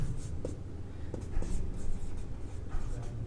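Pen scratching across paper during a Class 10 maths lesson, a soft continuous scribble with faint strokes and taps, close and steady, with no speech over it.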